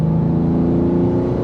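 A BMW G87 M2 engine holds a steady, loud, close droning note with no clear rise or fall in pitch, heard alone without talk.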